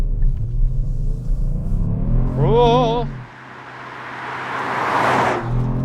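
A 2018 Kia Stinger GT2 AWD with an 8-speed automatic accelerates hard, its engine a steady low rumble that swells into a rising rush near the end, while a voice briefly exclaims over it.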